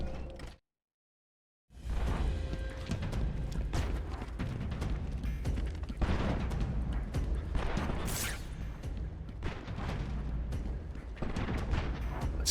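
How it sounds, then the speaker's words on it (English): Gunfire in Batman: Arkham Asylum follows a brief silent gap as a dense, continuous rattle of sharp cracks and metallic clatter, steady and fairly loud, with no speech. "It sounds like gunfire."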